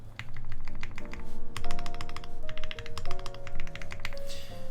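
Rapid, irregular key clicks from typing on a SINGA Unikorn R2.1 mechanical keyboard with a thermal build. The bursts come close and steady, over sustained tonal background music.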